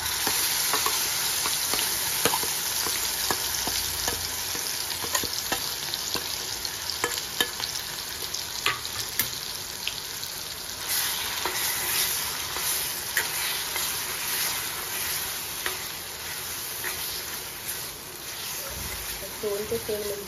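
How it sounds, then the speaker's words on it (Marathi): A spice mixture sizzles and fries steadily in hot oil in a heated kadhai for a tempering for stuffed brinjals, with scraping stirs and small crackles throughout. Close and continuous, with no talk. "त्यात आपलं हे मिश्रण घालून फोडणी चांगली परतून घेऊ."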